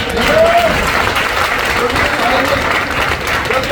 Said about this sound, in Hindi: तालियां नहीं होनी चाहिए।